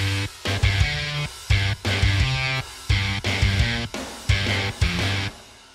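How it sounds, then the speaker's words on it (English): MIDI-programmed guitar part playing over a looped beat: repeated strummed chord phrases in a steady rhythm, with punchy low drums under each bar and short gaps between phrases, loud and close. "For example, I've got this guitar part over here,"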